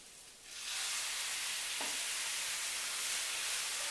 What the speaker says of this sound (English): I'm going to have to employ the simmer fry method here because the pan is dry now